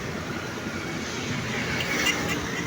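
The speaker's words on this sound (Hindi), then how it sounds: "ये मालगाड़ी जा रही है" A freight train passes through Lahore railway station, heard as a continuous broad rumble and rolling roar that holds steady for a few seconds with no talk.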